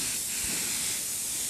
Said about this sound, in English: you spray right down the leading edge